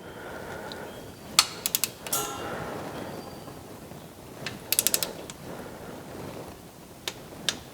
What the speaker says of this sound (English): We're going to take it to 70 inch-pounds on all these little return banjos.